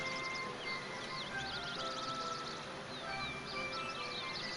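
Birdsong from Kingdom Hearts III, a steady stream of high chirps and warbling calls woven over a dense, continuous game soundscape with no talk.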